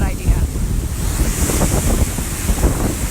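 Hurricane Dorian storm surge waves crashing onto the beach at King and Prince on St. Simons Island, loud continuous surf roar with heavy wind buffeting the microphone.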